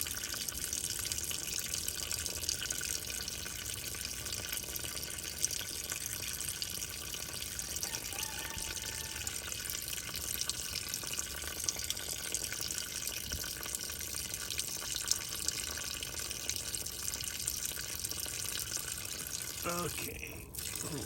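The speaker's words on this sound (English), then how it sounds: "let me drain this water out before, and then I'll drain the oil" Water draining out of a VAC tractor's cooling system, a steady broadband splashing and trickling that runs continuously at even loudness, with a brief clunk near the end.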